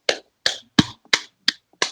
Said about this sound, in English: It's a loud clap, but I'll accept it.